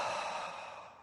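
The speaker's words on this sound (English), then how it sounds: "Exhale and relax" A person exhaling slowly and audibly during a meditation breathing exercise, a single close, breathy sigh that fades gradually.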